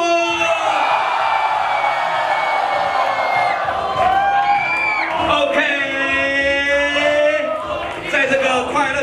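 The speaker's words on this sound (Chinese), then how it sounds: "请欢呼！" Audience at a live rap battle event cheering and whooping, a loud sustained crowd roar with shouts over music for several seconds.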